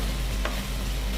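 Food fries in a pan on an Indian home cooking show, with a steady close-up sizzle and a brief stir.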